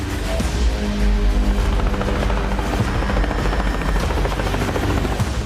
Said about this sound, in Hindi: Heavy lift Mi-26 helicopter, T-72 tanks, 7 lakh जवान युद्ध के मोर्चे पर निकल पड़े।